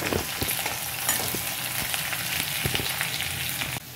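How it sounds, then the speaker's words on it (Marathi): Garlic and green chilies sizzle steadily in a hot pan, a continuous close frying hiss broken by occasional stirring clicks and scrapes, with no talking. "आपली मिरची आणि लसूण परतला आहे"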